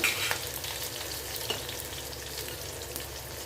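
Onions and tomatoes sautéing in a pan for a jackfruit-seed, poppy-seed and raw mango kuzhambu, heard as a continuous close sizzle with faint occasional stirring taps.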